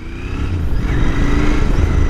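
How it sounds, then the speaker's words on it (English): A Royal Enfield Continental GT 650 motorcycle engine braking gives a loud, close, steady engine drone with a slowly shifting pitch over about two seconds. "Engine braking is pretty hard."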